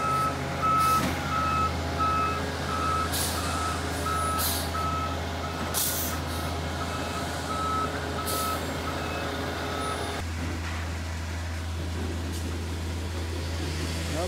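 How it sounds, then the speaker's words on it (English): Concrete trucks reversing at a foundation pour for a three-story shipping container home, with a regular repeating backup beep over a deep steady diesel engine idle and occasional sharp hissing air-brake bursts. "Got all the trucks lined up."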